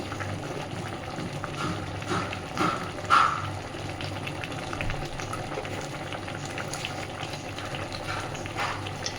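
Ghee and garam masala sizzle in a pan for a vegetarian papad curry, a steady bubbling hiss with a few soft clinks, close and moderate, with no talking.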